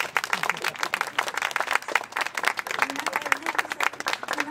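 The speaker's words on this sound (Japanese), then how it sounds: "拍手" A small crowd at a shopping-street festival in Totsuka claps together after a performer's announcement, brisk dense clapping that stays steady and fairly close for the whole stretch, with no talking over it.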